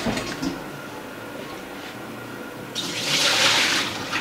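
Water pours and splashes in a kitchen sink as just-boiled water for Alfredo pasta is drained, a hissing rush swelling loudly for over a second after low background noise.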